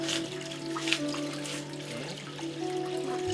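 Water running steadily from a tap into a basin for bathing a hedgehog in room-temperature water, a continuous close trickle with a faint tone under it and no talking.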